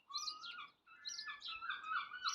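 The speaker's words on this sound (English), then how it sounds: "listen to the dicky birds singing" Small birds chirping and warbling close by, bright overlapping calls with a short gap near the start, against quiet surroundings.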